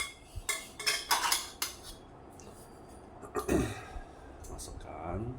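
Metal legs of a foldable, non-adjustable camping table being pushed into place, giving a few near clinks and clattering knocks in short bursts with quiet pauses between.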